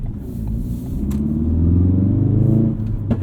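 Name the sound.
modified Ford Focus RS engine driving at night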